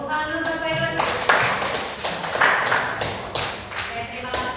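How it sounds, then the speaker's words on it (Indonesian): Applause from a room of people at an education faculty exam session, a dense run of hand claps that holds steady and fairly loud for several seconds with voices mixed into it. "Tepuk tangan dulu untuk Pak Yunus."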